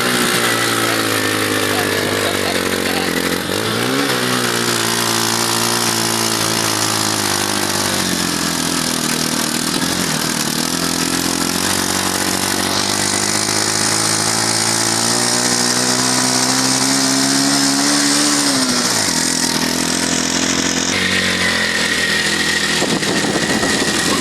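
A tricycle's small engine labors loudly and continuously while climbing uphill, its pitch rising and dipping as it strains under load, with a rough buzzing roar throughout.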